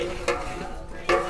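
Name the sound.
stirring meat with spices and yogurt in a large pot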